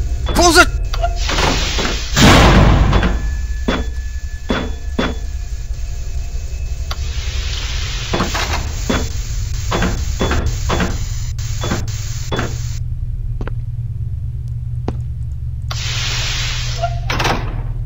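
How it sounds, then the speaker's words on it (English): Doors slamming shut in the horror game SCP Containment Breach, a series of sharp thuds and clunks at irregular intervals over a steady low rumble, with a voice talking over them. "Close all doors. Close it!"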